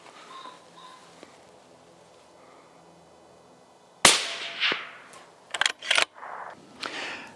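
A magazine is pushed up into a Seekins Precision Havak HIT Pro rifle chambered in .308 Winchester, giving a sharp close snap followed by a few quick metallic clicks and rattles after a quiet stretch.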